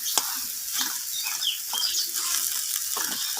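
Taro leaves cooking with prawns in a pan are stirred with a spoon, producing a close, continuous scraping sizzle with irregular soft scuffs and a brief sharp tap at the start.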